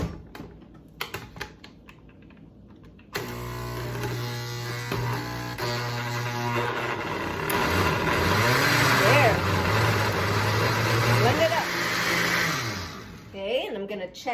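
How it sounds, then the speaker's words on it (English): A blender whirs loudly through chocoflan batter of cream cheese and eggs, starting abruptly after a few clicks and running steadily with shifting pitch for about ten seconds before winding down. "I'm going to blend it away"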